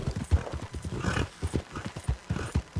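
Horse hooves clip-clop in Red Dead Redemption 2, a steady rhythmic trot of distinct close hits under light game ambience.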